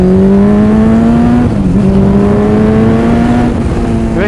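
A fast motorcycle accelerates hard up close, its engine note climbing in pitch, dipping briefly as it shifts, then rising again, loud and continuous over a gravel road.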